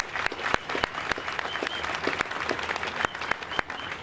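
Audience at the DE.CO grand opening and ribbon-cutting applauding the stall vendors, a lively wash of clapping with sharp individual claps standing out, fairly close and sustained.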